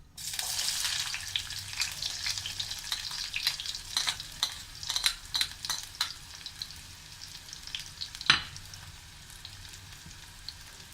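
Onions sizzle in hot oil for a squid roast, a steady frying hiss broken by spoon-stirring scrapes and clicks, with one sharp clatter near the end.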